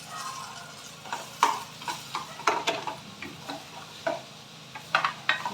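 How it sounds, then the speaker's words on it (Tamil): Sliced onions and mushrooms sauté in a pan with a soft, steady sizzle, broken by repeated scraping strokes of a spoon stirring them. "வெங்காயம் ஓரளவுக்கு நல்லா வதங்குற வரைக்கும் வதக்கிக்கணும்."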